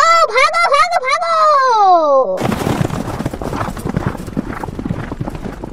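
Horse in the Indian Bike Driving 3D mobile game: a loud, shrill whinny for about two seconds, then a fast, steady clip-clop of galloping hooves.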